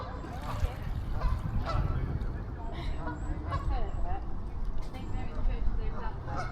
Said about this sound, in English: we have a canal with lots of birds, lots of swans.